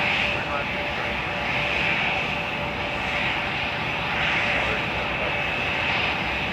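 A jet airliner on final approach to snowy Toronto Pearson airport produces a steady, broad engine roar with a high whine running through it, holding constant throughout with faint radio voices in the background.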